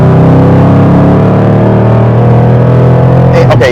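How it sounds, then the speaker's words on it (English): A 2013 Ford Mustang Shelby GT500 pulls hard in third gear, its engine a loud, steady, deep drone that holds throughout, with a brief burst of rougher noise at the very end. "3rd gear, we're not even gonna do it in 2nd. And on the gas."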